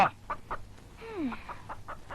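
A hen clucks in short, repeated bursts spread through the clip, with one longer, falling squawk-like call near the middle, heard fairly close with no talking.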